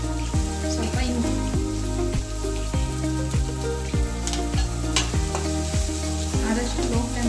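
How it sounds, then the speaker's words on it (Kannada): Onions with a pinch of salt sizzle over a low flame in a pan, with steady frying hiss and regular scraping strokes of a spoon stirring, close and continuous throughout. "ಆದಷ್ಟು ಲೋ ಫ್ಲೇಮಲ್ಲಿ ಇಟ್ಕೊಂಡೇ ಈರುಳ್ಳಿನ ಬೇಯಿಸ್ಕೋಬೇಕು."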